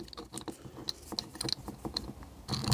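An M6 bolt being threaded through the middle of a fishing reel turned into an antenna mount, close small metallic clicks and ratcheting scrapes in an uneven rhythm, with a denser rattle at the end.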